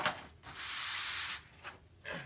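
A sheet of sandpaper is pressed and rubbed onto cardboard to make a pastel canvas. Close, scratchy rubbing strokes give one long sustained scrape, then a few shorter brushes after it.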